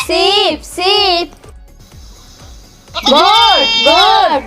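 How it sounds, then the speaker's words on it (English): A sheep bleats twice in quick succession, loud and close, then after a short quiet gap two more wavering bleats follow, with no talking. "Sheep, sheep, sheep."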